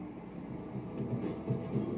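A train rumbles in the video game Gang Beasts. A steady, low, rolling rumble with faint rhythmic thumps plays throughout.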